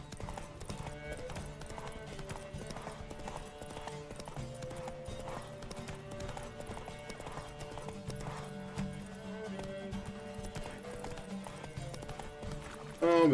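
Horse hooves in The Witcher 3 clip-clop in a steady, continuous rhythm beneath game music, with a possible whinny near the end.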